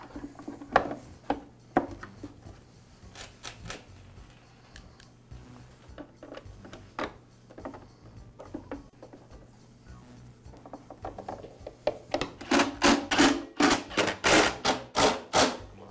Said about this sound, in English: And now reinstall the motor cover.